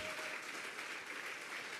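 A congregation at a Sunday afternoon church service claps together, a steady, even roar of applause heard from a distance and held at a low level throughout.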